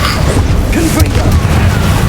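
A Confringo blast spell fires in Hogwarts Legacy as a single deep booming burst, set in dense, continuous game noise with a low rumble underneath.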